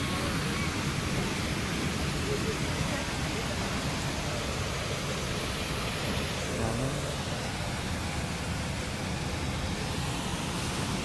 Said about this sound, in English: things are a little quiet at the waterfall here